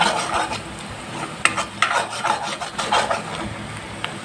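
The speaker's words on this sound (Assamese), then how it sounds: "নিমখ দি অলপমান লৰাই দিম। এনেকৈ লৰাই দিব আপোনালোকেও।" Scraping and rubbing strokes of a spatula stirring a salted egg and milk curry in a pan, steady and close, with a few sharper clinks.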